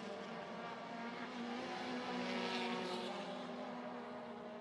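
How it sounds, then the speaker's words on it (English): WTCC touring cars racing at the Hungaroring, a steady blended drone of engines and tyres heard from a distance, swelling slightly midway with no talk over it. "You can hear the tyres scrubbing on the cars as they work hard around the twisty stuff"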